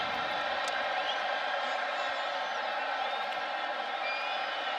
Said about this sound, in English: Crowd worked into a frenzy.